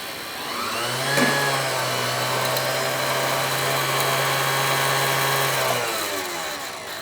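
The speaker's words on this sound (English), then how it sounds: "you can wind a bobbin very, very quickly on that" A Necchi Lydia 3 sewing machine winds a bobbin at high speed, a steady motor whir with a low hum that spins up, holds evenly for about five seconds, then winds down, with no talking.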